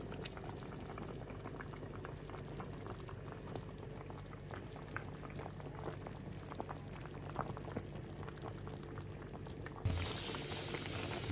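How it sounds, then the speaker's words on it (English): A pot of Jamaican curry chicken with dumplings and corn on the cob boils steadily, a dense continuous bubbling with small pops, close and moderately loud, no talking; near the end the hiss turns brighter and louder. "I'm just waiting for the pot to just bubble up"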